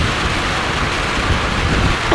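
Pouring rain drenches an outdoor horse-riding spot, a loud, dense, steady hiss of heavy rainfall filling the whole moment with no pauses and no voices.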